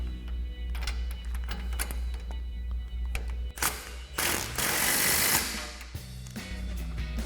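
Bolts on the lower shock mount of a Jeep Gladiator JT are tightened with a 21mm socket and wrench. Repeated metallic ratcheting and clicking run throughout, with a louder burst of mechanical noise midway and a steady low hum underneath.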